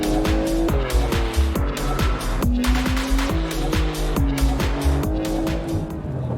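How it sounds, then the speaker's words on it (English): A Porsche 992 Turbo drives hard, its engine revving up through the gears with repeated rising pitch sweeps and quick shift breaks, loud and close with continuous roar and some tire noise. "Next, the Porsche 992 Turbo."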